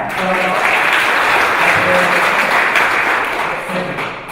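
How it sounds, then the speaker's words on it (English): An audience at a Pecha-Kucha community session at a conference bursts into loud, steady applause that holds for a few seconds before tapering. "so it's a great applause"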